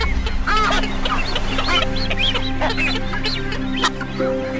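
Sooty terns in a breeding colony on land give dense, overlapping calls during courtship displays, many birds crying at once, near and loud over a steady colony din.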